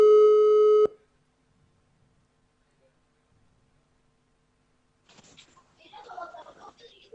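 A telephone line tone sounds for about a second as a phone call is placed, then cuts off into near silence before faint voices begin.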